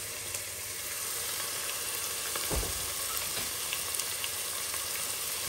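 Chicken pieces fry in a pan with turmeric and chili powder added, giving off a steady, close sizzle with occasional stirring scrapes and pops. No one speaks.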